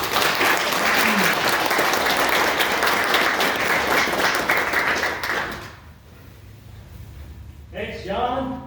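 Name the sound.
workshop audience applause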